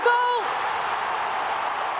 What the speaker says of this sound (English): Listen to the crowd cheer!